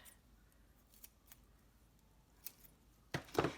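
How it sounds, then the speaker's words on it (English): Scissors snip through pieces of tear-and-tape adhesive, a few faint handling ticks first, then two louder, close crisp cuts right at the end. "I'm going to cut 2 pieces of tear-in tape."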